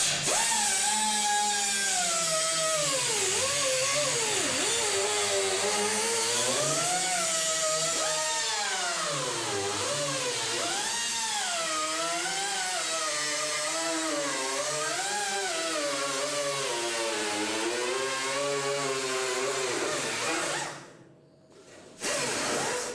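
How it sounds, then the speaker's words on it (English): A die grinder cuts out rusty sheet metal on a '56 Chevy Sedan Delivery, giving a loud, continuous high whine whose pitch keeps wavering as the load changes, then cutting out briefly near the end. "Tom, I'll let you get to cutting that out with your die grinder"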